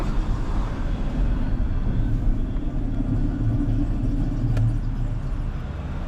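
A Nissan 200SX drives along with a constant low rumble and a droning, growling hum from a failing wheel bearing, heard through an open window, steady throughout with no talking.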